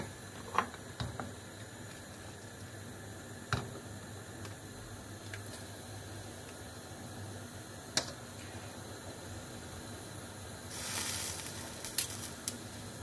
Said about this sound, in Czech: Tak, polívečka už vaří, tak ji stáhneme.